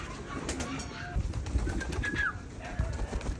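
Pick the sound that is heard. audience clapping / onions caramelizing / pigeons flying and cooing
pigeons flying and cooing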